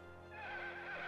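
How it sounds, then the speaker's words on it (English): A horse named Platinum Rain, Watson's mount in the video game London Detective Mysteria, lets out a single loud, rising whinny that swells and wavers for about a second, clear and alone. "She neighed uproariously and raised her front legs in the air"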